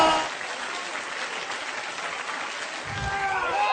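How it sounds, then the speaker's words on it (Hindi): An audience at an Amway business event applauds to welcome speakers onto the stage, sustained clapping and crowd noise filling the hall, swelling slightly toward the end, with voices audible in the mix. "please put your hands together and help me welcome on the stage Diamonds Going Camp, Tapas Ranjan and Susmit"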